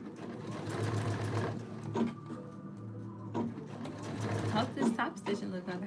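A sewing machine topstitching a black dress in black thread runs in close, rapid stitching bursts broken by short pauses, with people talking over and between the runs.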